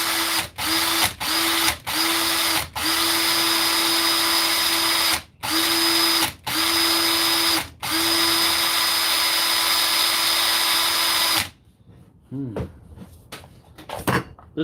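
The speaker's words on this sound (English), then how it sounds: "we have a shitty drill that goes" A small cordless drill whirs loudly in repeated short bursts, then in one long sustained run before stopping, followed by faint clicks and handling sounds.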